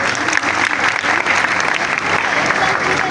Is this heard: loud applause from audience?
yes